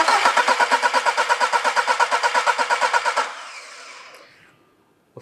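Car engine cranked over with the starter during a compression test, a close, loud rhythmic chugging of about twenty even pulses that stops abruptly and then fades to a brief whir, with no talking.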